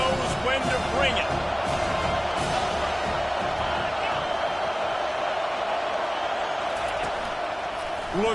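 A big crowd at a Texas A&M versus Ole Miss college football game roars and cheers in a dense, sustained wash, with a commentator talking over it.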